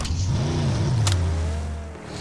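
A car engine in a video game revs up, dips and rises in pitch, then settles into a steady drone before cutting off near the end, loud and close with no talking.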